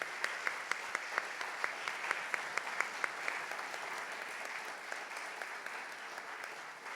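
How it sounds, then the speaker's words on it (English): Steady applause from the audience at a national political convention, moderately distant, with sharp individual claps standing out in a continuous patter that softens slightly toward the end. "I want to give a round of applause, and I want to thank Ray Warwick and Hawk Ne"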